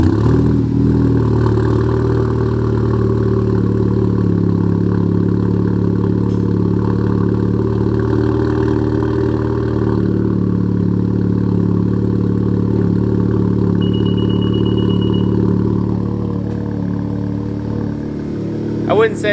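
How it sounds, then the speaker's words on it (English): Honda Civic Type R FK8 fitted with an AWE Track exhaust idling on a cold start, a steady, loud, bassy drone that holds level for the whole stretch with no talk over it. "it's not that extremely loud on cold start, but as you can hear, there's a nice little bass tone to it"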